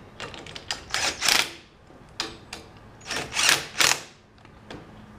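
A power tool tightens bolts on a Legend car hub in short whirring bursts that rise and cut off, several pulses in two groups, close and loud, with no talk.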